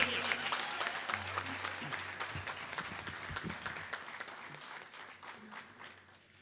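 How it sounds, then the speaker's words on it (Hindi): An audience at a book launch welcoming Amitabh Bachchan breaks into loud, sustained applause, dense clapping that slowly tapers off toward the end. "एक बार जोरदार ताली होनी चाहिए जोरदार तालियां"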